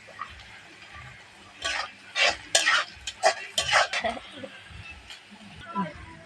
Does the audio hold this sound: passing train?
no